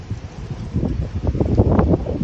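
Strong wind at Mérida airport buffets the microphone in gusty, uneven rumbling bursts that grow stronger toward the end.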